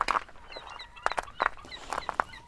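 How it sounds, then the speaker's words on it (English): Several short gull cries with downward sweeping tones, scattered and moderately loud over faint background noise on a seashore, distant and nearby. "The mournful cry of the gull."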